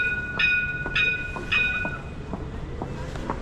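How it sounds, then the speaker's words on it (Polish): A city tram, line 4 in Bydgoszcz, Poland, rolls past close by with a rhythmic clack of wheels over rail joints and a steady high metallic ring, fairly loud throughout. "Spodziewałem się tramwaju"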